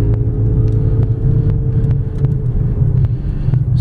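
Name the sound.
2009 Toyota RAV4 3.5 liter V6 engine accelerating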